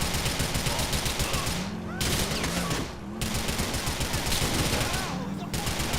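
Rapid automatic gunfire rips through GTA 4 as cars are shot at, loud dense bursts separated by brief pauses, with bright metallic crackle and continuous rattling throughout.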